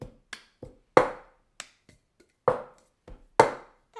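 Cup game rhythm played with a cup on a surface: a sequence of crisp claps, taps and cup knocks at normal speed, close and alone, with uneven spacing forming a repeating pattern.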